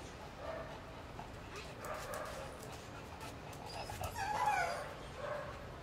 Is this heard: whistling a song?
no